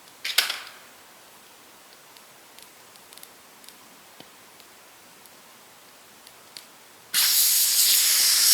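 A propane canister vents in the woods by a campfire: a few sharp pops and crackles over a quiet background, then a sudden loud, steady hiss that starts near the end and keeps going.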